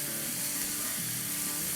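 Chicken and spices fry on a stove over medium-high heat, a constant hissing sizzle with a low bubbling undertone, close and steady throughout the short stretch.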